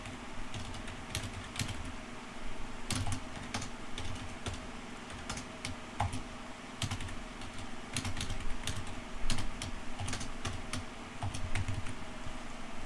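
Steady computer keyboard typing while code is entered for a deadlock-detection programming project, with rapid irregular key clicks and occasional louder strikes over a faint constant hum, no voices.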